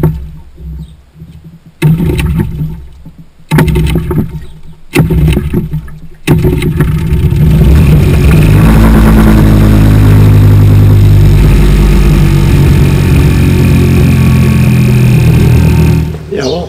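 A Mercury Mariner 4 hp outboard with carburettor faults is pulled over several times in short bursts, then catches and runs with a loud, steady close-up drone until the end, with someone talking over it.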